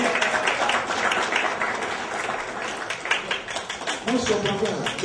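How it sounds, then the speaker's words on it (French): Audience applauding at a community celebration honoring a doctor, scattered clapping of moderate strength mixed with voices talking, fading somewhat toward the end. "Il faut l'applaudir, s'il vous plaît."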